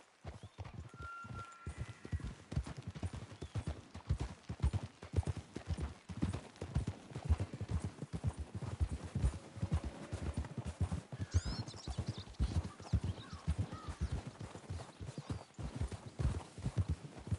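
Horses trot in a video game, with steady rhythmic hoof clip-clops on hard ground close by, under faint ambient sound and an occasional snort.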